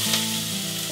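Chopped onions and garlic cloves hitting hot olive oil in a saucepan, a bright, close sizzle that flares at the start and keeps crackling steadily; no talking.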